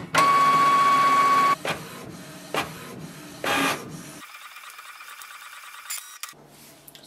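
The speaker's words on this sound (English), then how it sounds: "it will start the printing and head alignment automatically" A Canon Pixma MG3600 printer runs a printhead alignment sheet, a loud steady whirring motor run followed by clicks, short feed bursts and quieter mechanical rattling, close up with no talk.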